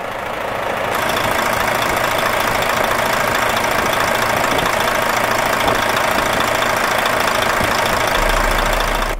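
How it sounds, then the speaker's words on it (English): A Volvo D13 diesel engine rated at 335 horsepower idles in a 2008 Volvo VNM64200 truck, giving a steady, loud, even rumble that holds unchanged from start to finish with no talk. "Volvo D13 engine, 335 horsepower."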